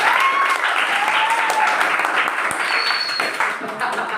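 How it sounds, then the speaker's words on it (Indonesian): Classroom applause for students after group presentations in a school lesson: a steady wash of clapping from a group, fairly loud and continuous, with faint voices and a few brief whistle-like tones mixed in. "beri tepuk tangan untuk semuanya"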